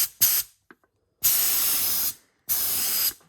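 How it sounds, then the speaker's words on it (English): Short bursts of spray paint hitting a boat roof on a 25ft Bertram, three loud hissing blasts separated by brief pauses, close and with no voices. "This is the first few sprays."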